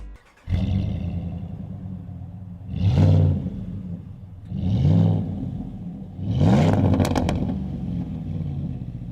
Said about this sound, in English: we're going to be taking a quick look at the MBRP Pro exhaust kit for the 2019 or newer Ram 1500